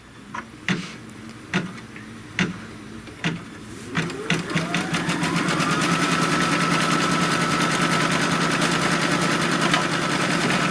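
An embroidery machine stitches a cut line on a cinch sack: a few separate clacks first, then the motor spins up into a steady, rapid mechanical chatter of needle strokes that runs on evenly, near and clear, with no talk.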